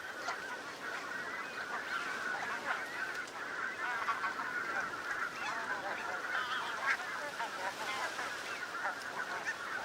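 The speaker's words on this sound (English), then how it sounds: "the geese spend every minute feeding and fattening, clipping the sweet coastal pasture" A flock of geese feeding on coastal pasture along a grassy shoreline honks continuously, many overlapping calls from middle distance forming a steady chorus over faint background noise.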